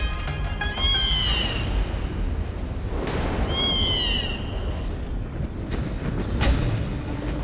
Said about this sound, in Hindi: काली बिल्ली